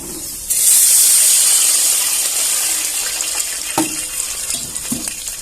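Water poured into a hot pan of spices for sweet rice bursts into a loud rushing hiss and steam, then fades to a simmering sizzle with a few clanks of a utensil, close by.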